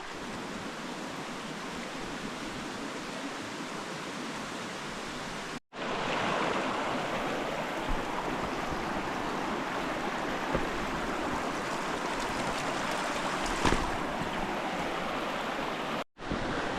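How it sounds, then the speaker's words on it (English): A mountain stream, the upper true right branch of Smith Stream in the Ruahine Ranges in winter, choked with windfall and slip debris, rushes steadily close by as a dense, unbroken wash, with two brief cuts to silence and no voices. "We're on the upper true right branch of Smith Stream."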